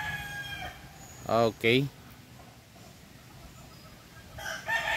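A nine-month-old Roundhead Boston mixed sweater gamefowl rooster on a small farm crows in two loud, close bursts near the middle, with a brief voice at the start and another crow or call beginning at the end.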